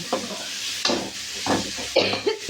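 Onions and tomatoes sauté in a pan for a Thoothukudi-style sardine curry, with soft sizzling and stirring scrapes rising in short bursts, close by and moderately loud.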